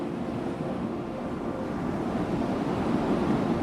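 Ocean surf washes against the shore, a continuous broad roar of breaking waves that swells slightly louder toward the end, with wind noise mixed in and no voices.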